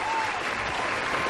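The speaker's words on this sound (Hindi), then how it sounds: "अरे उससे पहले हम आपके इस पे तालियां तो बजाते ही।" Audience applause in a studio during a Hindi children's show, a dense steady clapping wash that stays loud and even throughout with no talk over it.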